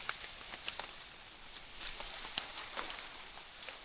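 Overnight downpour around a bamboo hut, a soft continuous rain hiss with irregular sharp drips and patters close by.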